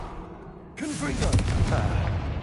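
A Confringo fire-blasting spell bursts in Hogwarts Legacy, a sudden booming crack with a crackling, rumbling tail after a quiet start, loud and close, with a voice calling out just before it.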